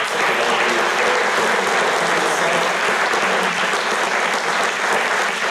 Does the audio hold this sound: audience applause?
yes